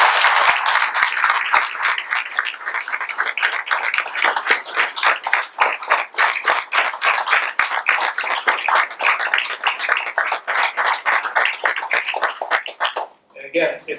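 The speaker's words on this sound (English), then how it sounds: "should all give you a round of applause for all of you" An audience honoring Windsor High School applauds steadily at a ceremony with the governor, a dense, continuous patter of many hands held for over ten seconds before cutting off abruptly.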